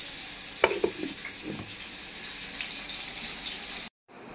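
Flour-coated pieces fry in hot oil with a steady close sizzling hiss, broken by a few light utensil clinks early on, before the sound cuts off abruptly.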